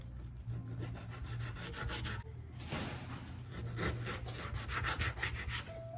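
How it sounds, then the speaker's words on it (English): A knife saws through skin-on salmon to cut it into fillets. Soft, rhythmic rasping strokes sound close but quiet, with no speech. "I'm going to cut up my salmon into a couple fillets"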